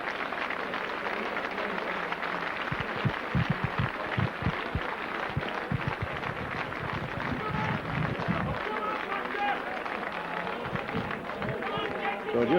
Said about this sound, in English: Saints player sympathetic applause as he stretched it off